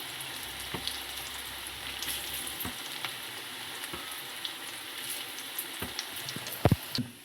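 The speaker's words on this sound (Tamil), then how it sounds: "முட்டைக்கோஸ் போண்டா இப்போ எல்லாம் போட்டுட்டு பார்க்கலாம்." Cabbage bonda frying in hot oil, a continuous close crackling sizzle with scattered pops and a couple of sharper clatters near the end.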